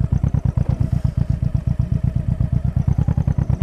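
A Honda VT 1100 Shadow motorcycle idles just after starting, its engine producing a steady, loud, rhythmic lumpy thumping pulse close to the listener with no voices.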